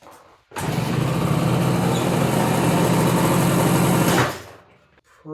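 A 1970 Kawasaki Bushmaster motorcycle engine runs close and loud, a buzzing high-revving drone that starts abruptly, holds steady for about four seconds, then drops away.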